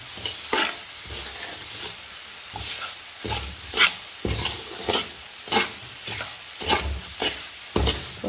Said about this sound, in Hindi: चम्मच जो है वो आपने इसमें कॉन्टीन्यूअस जो है वो चलाते जाना होता है, चम्मच नहीं रुकना चाहिए।